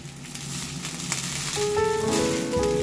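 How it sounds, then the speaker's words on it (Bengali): Cooked rice dropped into a pan of fried cumin tempering, setting off a steady loud sizzle that swells as the grains hit the hot oil. "জিরেগুলো ভাজা হয়ে গেছে, ফোড়নগুলো এবার ভাত দিয়ে দিচ্ছি।"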